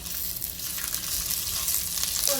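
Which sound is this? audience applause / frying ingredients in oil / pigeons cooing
frying ingredients in oil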